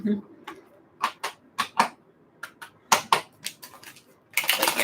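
Cards snap and riffle in a series of sharp, clicking bursts, irregular in rhythm and close up, ending in a quick flurry.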